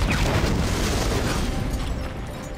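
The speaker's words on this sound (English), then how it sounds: "Grenade." A grenade explodes in the GoldenEye 007 Wii video game, a loud, heavy boom that rumbles on for a couple of seconds, with no speech over it.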